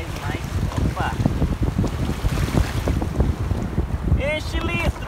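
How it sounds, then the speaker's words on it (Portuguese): Ocean waves roll onto a beach amid heavy wind buffeting the microphone, a choppy rushing wash with bursts of turbulence, while children's voices chatter and call out in the background. "lá vem a onda"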